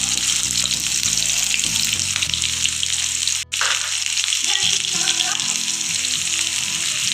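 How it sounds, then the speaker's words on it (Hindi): Chopped onions sizzling steadily in hot oil with ajwain and three whole red chillies, a loud continuous frying hiss with a brief dropout midway and water-like crackle, no talk over it. "अब हम इसमें प्याज डाल देंगे।"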